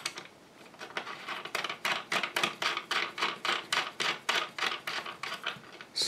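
Metal screws being driven tight into hardware on a Morris bass guitar during a repair, a steady series of short, crisp ratcheting clicks and scrapes in quick rhythm, close and fairly loud with no talking.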